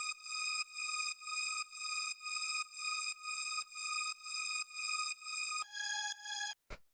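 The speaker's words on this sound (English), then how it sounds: "And yeah, after that we have the string, which sounds like this." A synth string part from a house track plays repeated sustained chord stabs in a steady rhythm, bright and even, then shifts chord near the end before cutting off, with no talk.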